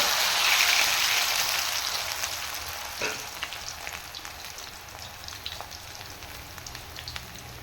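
Cauliflower crackles and sizzles in hot oil, a dense bright frying hiss that slowly settles into scattered pops and spits, close up with no talk.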